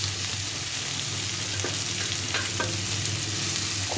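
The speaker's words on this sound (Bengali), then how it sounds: "মূলোটা দিয়ে দেব। এটাকে ভালো করে একটু ভেজে নিতে হবে" Finely shredded radish sizzles and hisses steadily in a hot pan, a dense, continuous frying crackle with a few soft stirring scrapes near the middle.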